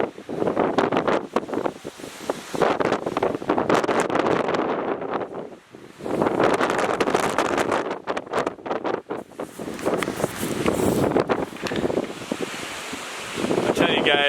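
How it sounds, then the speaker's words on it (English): Strong wind roars across the microphone on a mountain trail along the Shining Creek–Old Butt Knob loop, coming in loud, buffeting gusts with brief lulls between them, and faint voices partly masked underneath. "Very windy"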